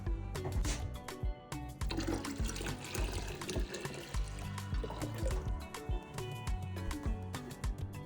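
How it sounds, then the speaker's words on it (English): Water poured into watermelon lemonade in a kitchen, a continuous splashing, gurgling stream of liquid that runs for several seconds with a few brief breaks and no speech. "what I'm going to add to this is some water"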